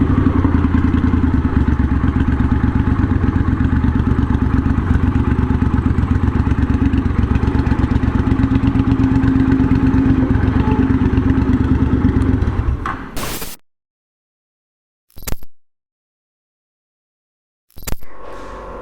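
A custom Triumph Bonneville bobber built for Goodwood Revival runs with a loud, steady, close engine rumble for about thirteen seconds, then cuts to silence, followed by two brief bursts of sound.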